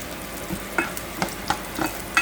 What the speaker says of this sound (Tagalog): Hintayin ko lang mga golden brown yung bawang.